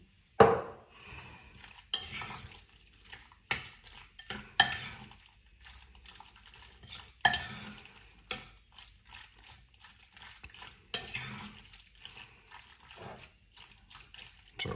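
Utensils clink and scrape against a bowl in irregular bursts while mixing ingredients for orzo pasta with feta and tomato, with soft wet stirring sounds between the sharper knocks.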